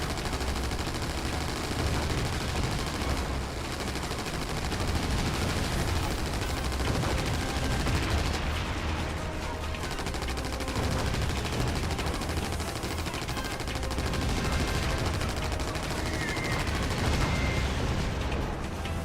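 Rapid twin Lewis machine gun fire in the aerial combat game Wings of War, a dense, continuous rattle of gunfire running loud throughout with battle noise and no pauses.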